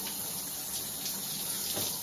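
Water runs from a shower or tap while soap is rinsed off, a steady close spattering hiss with slight fluctuations throughout, no voices.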